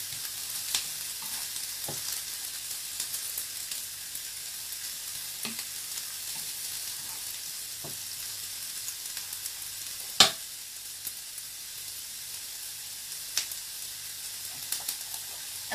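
Coconut oil sizzles steadily in a pan while chutney ingredients fry, a soft continuous hiss with a few faint clicks of stirring and one sharper clink near the middle, without talk.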